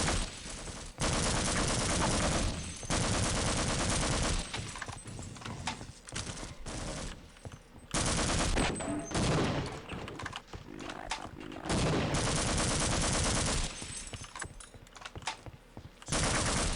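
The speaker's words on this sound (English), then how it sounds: "coming out of sprint while you're using dual pistols, you will fire both of your pistols at the same time for double damage" Dual pistols firing in the video game Hunt: Showdown, loud rapid bursts of gunfire in long dense stretches broken by short pauses, close and dominant, with no voices heard.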